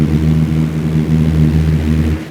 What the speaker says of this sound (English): You're hearing the chopping of the blades as they come through the air.